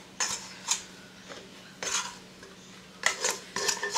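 A utensil scrapes potato and cheese patty dough out of a bowl onto a tabletop in a home kitchen, giving several short, sharp scraping strokes at close range, spaced in irregular bursts with quiet pauses between.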